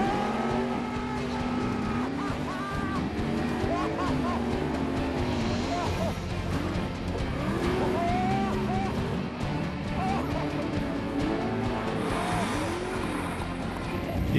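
A vehicle on huge paddle tires grinds steadily over pebble-sized volcanic debris, a loud continuous engine drone with crunching rolling noise throughout, while people talk over it.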